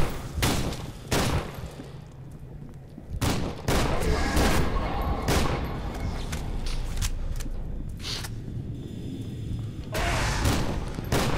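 Gunfire in the video game FEAR 2, loud repeated bursts of shots and booming blasts separated by short gaps, with dense rapid firing running through the middle.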